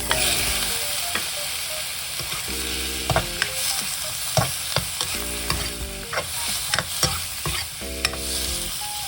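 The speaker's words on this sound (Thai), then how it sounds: "เราก็ใส่กระเทียมลงไปใหม่ ผัดให้หอมๆนะครับ" Garlic and shrimp stir-fried in a hot pan for a Thai shrimp rice soup, a steady close sizzle broken by sharp scrapes and clacks of the spatula, with faint tonal beeps recurring in the background.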